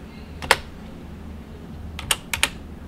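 Computer keyboard hotkeys are pressed for the Das Trader Pro day-trading platform: one sharp click, then a quick cluster of three close, crisp keystrokes in a quiet room.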